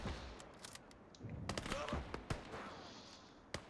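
Video-game gunfire aimed at Russian infantry in front of a minefield: scattered sharp shots and short bursts crack out at irregular intervals over a rumbling battlefield background.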